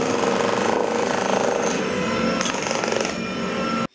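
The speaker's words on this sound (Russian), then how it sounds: "Следы забвения в павильоне смывали, шлифовали, шкурили, разрушали керхером и отбойным молотком" A jackhammer breaks up the floor of an old pavilion under renovation, hammering loudly and continuously in rapid pulses before cutting off abruptly at the end.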